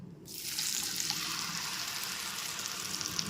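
Mustard and poppy seed paste is stirred in a pan over a low-to-medium gas flame. It gives a steady, close, watery hiss and sizzle that starts suddenly after a brief quiet moment and carries on evenly with no talking.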